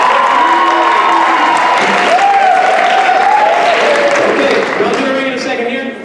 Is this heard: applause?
yes